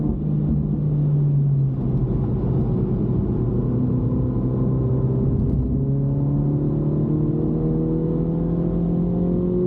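Engine of a car on a track day roars loudly and steadily, pitch shifting through gear changes as another car flies past, an up-close rumbling drone throughout with no talking.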